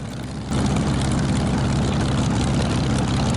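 A Supermarine Spitfire's engine and propeller run on the ground on a hot summer day, a loud, steady droning roar that surges up early and then holds constant and close.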